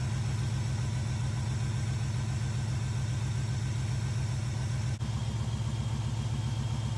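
A Chevrolet El Camino engine idles with a steady, throbbing low rumble, close and constant, after its idle screw is adjusted.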